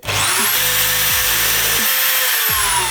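A power drill whines loudly as it bores into wood, the motor pitch dipping and recovering several times as the bit bites and grinds.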